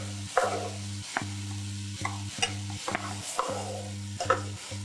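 Dabeli masala is stirred and mixed in a frying pan, with close scraping strokes repeating every half second or so over a steady electrical hum, no talk.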